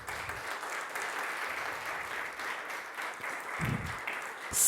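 Scattered applause offered to the Lord by a church congregation during a Spanish-language sermon, faint and distant, a soft continuous patter with a few closer claps near the end.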